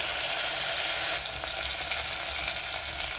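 Onion, curry leaves and tomato frying in a pan, a steady loud sizzle with a brief scrape of stirring partway through, alone with no talk.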